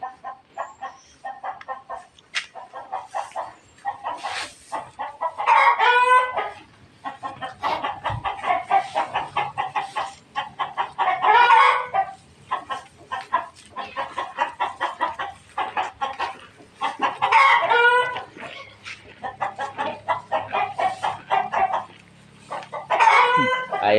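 Hens cluck steadily nearby while a rooster crows repeatedly, roughly every six seconds, over an ongoing farmyard chatter.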